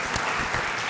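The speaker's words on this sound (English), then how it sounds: "We have got another chance to applaud you." Brief burst of audience applause at a Social Business Day gathering in honour of a presenter, a dense, fairly quiet wash of clapping with no talk.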